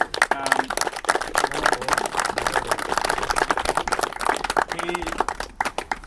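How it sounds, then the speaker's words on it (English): Round of applause at an outdoor centenary commemoration of the Meelick Ambush on Woodcock Hill, Meelick; scattered crowd clapping in quick irregular bursts, with a voice talking over it. "he deserves a particular round of applause"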